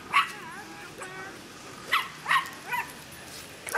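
A griffon dog lets out a series of short, sharp barks and yips, close by and spaced irregularly, with a couple of brief whining tones at the start.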